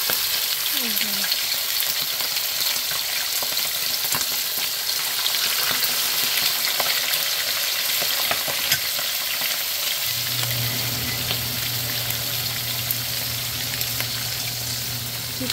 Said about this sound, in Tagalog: Iprito ko muna yung pork